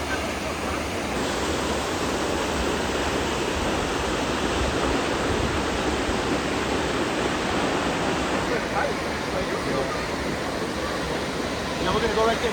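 A waterfall near the Tail of the Dragon roars as a steady, loud rush of water that fills the whole stretch, with voices talking faintly in the background.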